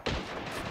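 Mauser rifle fire in the video game Men of War: Assault Squad: a single sharp crack with a short echoing tail, moderately loud, heard alone with no voices.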